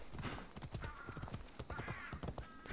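A horse gallops in Assassin's Creed Odyssey, its rapid hoofbeats forming a quick, uneven clip-clop rhythm, fairly quiet, with faint higher tones over the steps.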